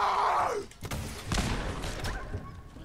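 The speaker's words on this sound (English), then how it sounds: "Missile launcher, away!" A missile launcher fires in Fallout 4, giving a sharp blast and thudding impact, with voices shouting excitedly over the combat noise.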